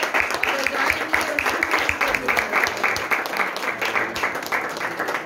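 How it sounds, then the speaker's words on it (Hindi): Loud, steady crowd applause fills a church service, many hands clapping at once with no pause, sustained throughout. "जोरदार तालियां सबसे पहले हम खुदावंद के लिए"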